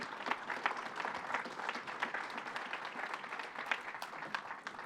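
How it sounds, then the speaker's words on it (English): An audience at a tech center winter summit applauds a speaker, steady dense clapping that holds evenly from start to finish at a moderate distance. "Can we get a round of applause for Luca?"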